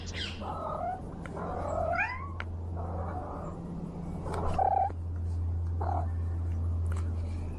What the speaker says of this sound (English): Oh, it's the same cat. The cat is back.